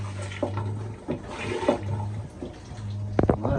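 A boat's marine toilet bowl filling with water, with gushing, sloshing pulses over a constant low mechanical hum and a few sharp clicks near the end, close and clear.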